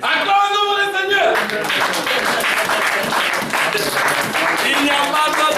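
Congregation in a church service breaking into sustained applause and clapping, dense and steady throughout, following a brief stretch of music or singing at the start.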